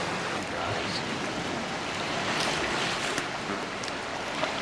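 Ocean waves crash and pound against rocks along a shoreline, a steady broadband roar of surf filling the scene with swells of louder wash, heard alone without talk.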